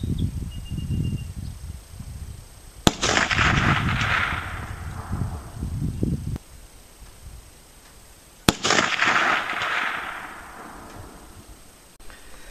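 Two sharp rifle shots firing 150-grain flat-nose cast bullets at a 50-yard range, each a loud crack followed by a long rolling echo, spaced about six seconds apart outdoors.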